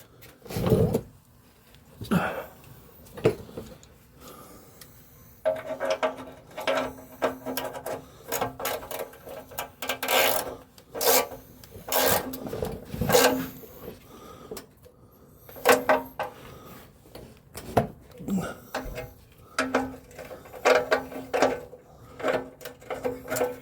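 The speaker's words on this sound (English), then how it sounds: "And then we'll get our ratchet on it and snug it up." A ratchet snugging up a car's oil drain plug during routine maintenance: repeated quick clicking bursts and metallic clatter in an irregular rhythm, close by, with no speech over them.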